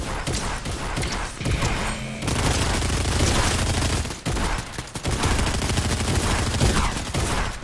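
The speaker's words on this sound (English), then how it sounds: "I'm waiting for your gunshot" Sustained, dense gunfire in the video game Fortnite, with rapid overlapping shots and booms that are loud and close and fill the whole stretch, with only brief dips.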